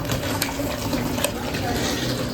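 Water running steadily from a hose into the base of an HS-BB180S freestanding boxing bag as it fills, a continuous close splashing rush with low background murmur.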